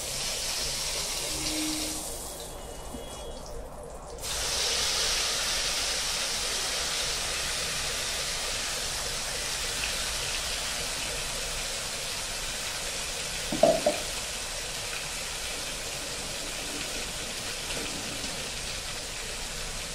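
Dum aloo gravy paste of ground masala sautéing in oil in a pan, a broad steady hiss and sizzle filling the whole stretch, close and even, with a brief dip early on and one sharp clink midway.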